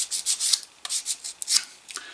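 Short strokes of 220-grit abrasive rubbed across a metal Craftool oval leather punch, a quick irregular scratching rhythm of about a dozen close, crisp passes with brief gaps, no talk.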